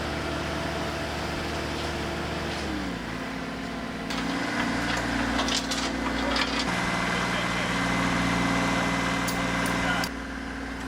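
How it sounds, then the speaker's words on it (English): A baby tractor engine labours and revs under load while pulling, a continuous droning hum with shifts in pitch, along with creaking and clattering from the load. "Although it's only a baby tractor, it pulls with attitude."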